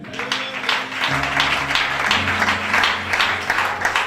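A church congregation claps and applauds for Jesus during a worship service, a dense, continuous wash of many hands heard at close range. Sustained organ-like music chords play underneath.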